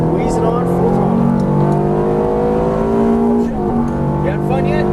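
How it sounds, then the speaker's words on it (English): A Ferrari F430 F1 runs at full throttle on a racetrack. Its loud, close engine note climbs steadily, dips briefly at an upshift, then pulls on again. "Squeeze it on, full throttle."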